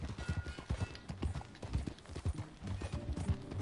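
Horse hooves clip-clop at a steady walking rhythm in Red Dead Redemption 2, with a faint voice briefly under the hoofbeats.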